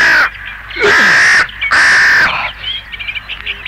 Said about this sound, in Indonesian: Burung-burung bangke ini mengganggu saja.